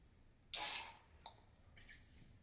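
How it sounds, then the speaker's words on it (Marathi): Wheat grains from a home farm poured into a metal pot, a sudden bright rattling rush that tapers off quickly, followed by a few light trailing clinks. "राहिलेले सर्व गहू आता भांड्यात टाकते"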